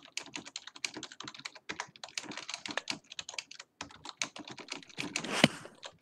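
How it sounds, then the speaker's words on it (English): Rapid, continuous typing on a computer keyboard, close and crisp, with irregular bursts of key clicks and brief pauses and a louder thump near the end. "What are you typing?"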